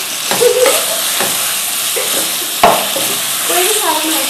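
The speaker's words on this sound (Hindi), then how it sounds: "भुनाई किस टाइम होगी? भुनाई इस टाइम होगी।" Meat sizzles loudly in a hot pot as it is fried down for a bottle gourd and mutton curry, with stirring scrapes and bursts of spitting oil and no talk.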